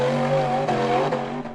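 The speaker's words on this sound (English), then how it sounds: "The white steel frame buggy charged hard up the dirt slope" A white steel-frame off-road buggy's engine roars hard and close as it charges up a dirt slope, a loud, sustained, strained drone with slight pitch wavering throughout.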